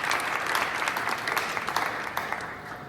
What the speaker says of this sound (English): so the audience can give you a round of applause